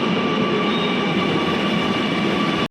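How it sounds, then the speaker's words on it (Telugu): A Kochi metro train pulls into a station with a loud, steady rumble and whine that continues unbroken, with no talking. "వెళ్ళే ట్రైన్ కూడా వచ్చేసింది."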